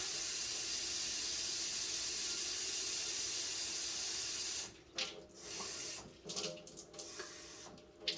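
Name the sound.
water poured into turkey brine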